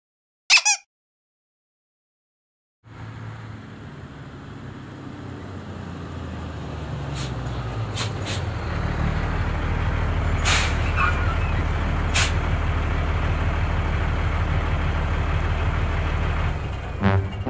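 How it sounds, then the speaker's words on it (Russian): A truck engine starts from silence and builds into a steady rumbling idle, punctuated by several sharp air-brake hisses near the end, after a short sound at the very start. "Смотри, какой грузовик приехал"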